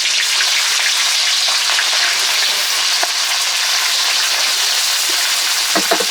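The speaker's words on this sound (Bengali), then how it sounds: "এখন মাছগুলো ভেজে দিই।" Prawns frying in hot mustard oil give a loud, steady, dense sizzle with fine crackling that runs unbroken throughout, with no talking.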